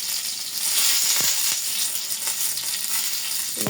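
Bay leaves and dried red chillies sizzle in hot oil, a loud, steady hiss with a few sharp crackles and stirring taps close by.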